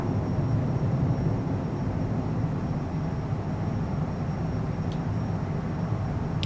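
A Cessna Citation CJ4 business jet taking off from runway 26 left at Leipzig in Microsoft Flight Simulator: a steady, loud, broadband engine roar with a low rumble, unbroken throughout, with no voices.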